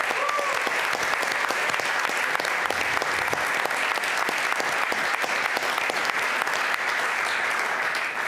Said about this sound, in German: Bitte an die Technik mal einen großen Applaus.